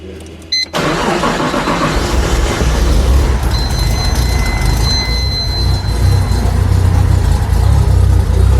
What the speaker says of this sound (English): I gotta let y'all hear how quiet this thing is with a Pexi exhaust.